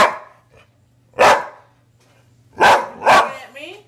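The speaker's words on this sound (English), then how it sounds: "What are you barking at?" A dog barks nearby, three sharp barks with pauses between, the last trailing into a short whine, against a faint background hum.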